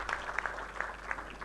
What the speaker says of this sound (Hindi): तो जोरदार आप ताली बजा के स्वागत कर सकते हैं